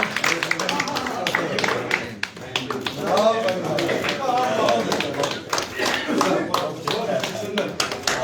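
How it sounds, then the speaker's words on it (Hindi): A crowd at a political joining event claps in welcome, with brisk, irregular claps running throughout, close and loud, while voices talk and cheer over the top. "तालियां से स्वागत।"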